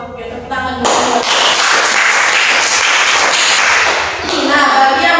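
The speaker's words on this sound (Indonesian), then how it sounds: "Oke, tepuk tangan dulu." Schoolchildren in a classroom clap together in a loud, dense burst of applause lasting several seconds, with voices heard briefly before and after.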